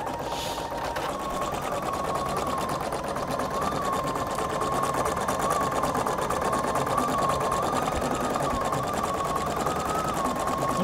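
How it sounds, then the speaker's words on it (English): A Husqvarna Viking Designer Brilliance 80 sewing machine stitches embroidery in a fast, continuous mechanical whir with a steady high hum, running close and alone at even loudness. "so now you can see it's going to stitch right where I've placed it."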